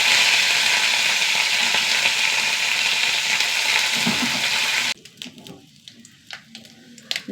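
Dried red chillies and curry leaves fry in hot oil with a loud, dense sizzle that cuts off abruptly, leaving only faint clinks and scattered crackles near the end.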